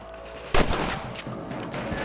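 Rifle shots ring out in the Red Dead Redemption video game as rabbits are hunted, with one sharp loud crack followed by a couple of fainter shots over a steady outdoor background.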